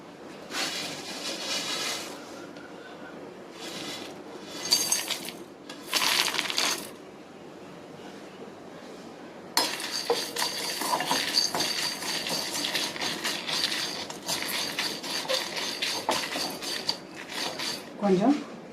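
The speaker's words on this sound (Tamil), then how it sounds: "ஒரு 4 ஏலக்காய், கிராம்பு 4 கிராம்பு, அடுத்து ஜீரகம், மல்லி, குருமிளகு, இதெல்லாம் வறுத்துக்கிடலாம்" Whole spices such as cardamom, cloves, cumin, coriander and peppercorns dry roasting in a pan for a chicken curry fry, with repeated scraping and clinking of a utensil in bursts, close and fairly loud.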